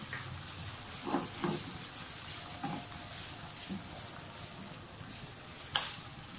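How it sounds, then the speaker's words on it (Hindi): Ground onions fry in a pan with a soft, steady sizzle, broken by a few light stirring scrapes and taps, fairly quiet and close. "प्याज डाल दिए, प्याज को थोड़ा सा फ्राई करें।"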